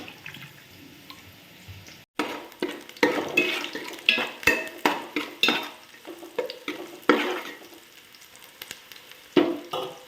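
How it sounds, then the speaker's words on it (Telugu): Green chillies and onions fry in hot oil while being stirred, producing loud, rhythmic scraping strokes over a continuous sizzle, close to the pan after a brief quiet start. "ఆయిల్ వేడెక్కింది పచ్చిమిర్చి ఉల్లిపాయ వేసేసాను"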